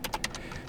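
Quick taps on a computer keyboard as an IP address is typed, a handful of light, close clicks in fast succession, short and clear.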